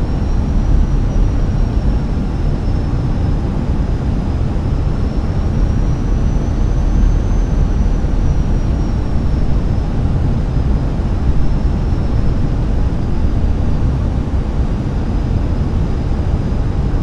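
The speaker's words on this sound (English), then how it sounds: "All that's left is to just land the plane." In a flight simulator, a plane's engines drone on final approach to landing. The steady, unbroken roar carries a faint high whine that rises and falls slightly, with no speech.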